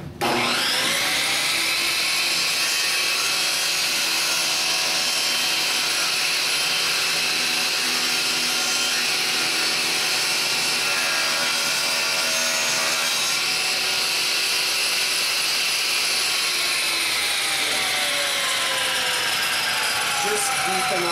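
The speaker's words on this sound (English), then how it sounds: "We're going to leave it set with the saw blade riding down the middle, but we need to adjust our height so that we don't slice through the board." A table saw blade cuts a shallow groove down the middle of a wooden board for a beehive frame, a continuous loud high whine and rasp held steady for about twenty seconds, alone without talking.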